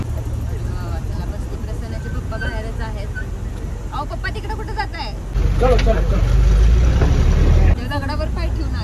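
A vehicle crawls slowly over a rough, rocky road on the way to the Kedarnath trek, its engine rumbling low and steady beneath nearby voices, swelling louder for a couple of seconds near the end.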